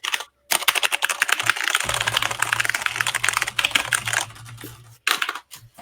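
Rapid, dense computer keyboard typing, close and crisp, a continuous clatter of keystrokes with brief pauses and a low steady hum underneath.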